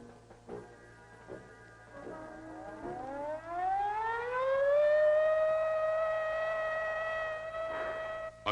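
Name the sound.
civil defense attack warning siren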